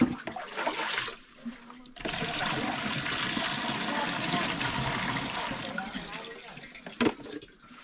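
Water pours and splashes into a container outdoors in a rural setting, a steady rushing flow with brief pauses and trickles, while people talk nearby.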